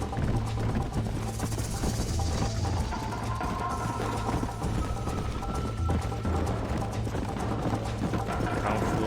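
Horse hooves clip-clop steadily in the video game Red Dead Redemption, a continuous rhythmic beat mixed with mechanical clatter and game sounds while someone talks over it.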